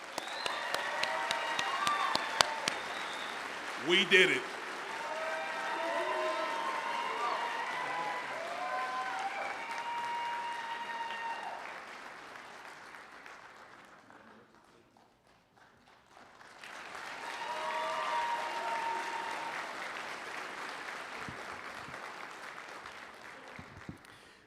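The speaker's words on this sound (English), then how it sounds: "Class of 2026, give yourselves a round of applause" A graduating class and the crowd at a spring commencement ceremony break into loud sustained applause and cheering, which fades out briefly before a second wave of clapping rises again, with a few voices shouting over it.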